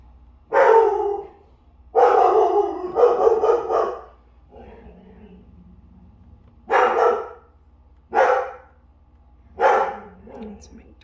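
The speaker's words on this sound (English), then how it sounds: "That's my dogs." Dogs barking indoors in several separate bursts, a longer volley early on followed by three short barks spaced a second or two apart, loud and fairly near.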